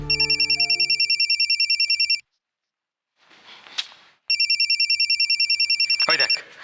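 A telephone rings in a home, sounding as two long bursts of rapid electronic trilling separated by a brief pause, with faint movement and a short voice between them.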